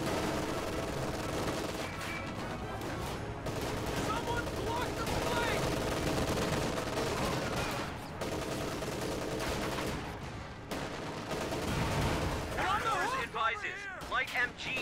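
Machine gun fire in a real-time strategy war game, with rapid bursts and scattered gunshots continuing throughout under steady commentary from a speaker.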